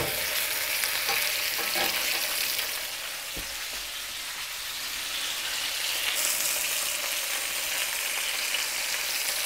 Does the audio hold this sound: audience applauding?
no